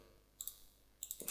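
Two brief pairs of soft computer mouse clicks sound close in a quiet room as an OK button is pressed in Windows 7 settings, followed by a faint bump at the end.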